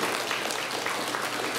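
An audience at a Tamil New Year celebration claps loudly, a dense, continuous burst of many hands close by.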